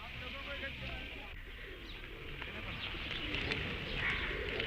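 Pigeons coo in princely Jaipur, Rajasthan: soft, repeated low calls close by, with a faint murmur of voices and ambient background underneath.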